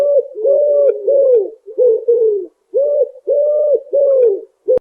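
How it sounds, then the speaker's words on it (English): Pigeon cooing close and loud: a series of soft, rounded throaty coos in a repeating rhythm with brief gaps. "pigeon"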